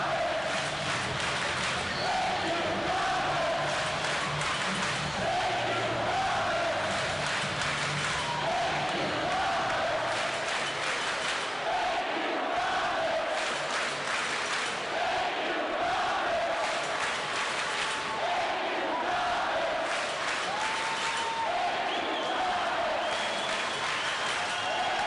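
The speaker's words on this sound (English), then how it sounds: "And the crowd is all you need to hear right now." A hockey arena crowd roars and applauds after the Manchester Monarchs clinch the AHL championship at Utica, a dense, sustained wall of cheering, whoops and clapping that stays loud and steady throughout.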